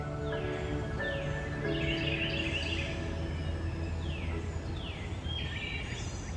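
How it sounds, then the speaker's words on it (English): Several birds sing and chirp in Iroquois Park on a dark, cloudy, wet morning after overnight rain: repeated bright whistled calls and quick descending trills from various distances over a constant low background hum. "Listen to the birds."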